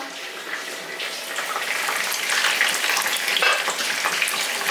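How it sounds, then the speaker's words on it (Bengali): Shrimp paturi wrapped in bottle gourd leaves fries slowly on low heat in a covered frying pan, giving a steady, soft, even sizzle that swells slightly midway, with no voices. "এবার ফ্রাইং প্যানটাতে একটা কভার লাগিয়ে দেবো, দিয়ে এটাকে সিমে আছে ধীরে ধীরে ভাজবো"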